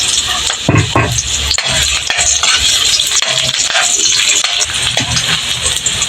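Garlic, onion and ginger fry in hot cooking oil, producing a loud, constant sizzle close up, broken by frequent clanks and scrapes of a utensil stirring against the pan.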